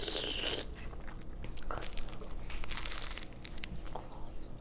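A bite into a breakfast sandwich topped with sauce, followed by close, crunchy chewing and crinkling wrapper noises, steady and fairly quiet throughout.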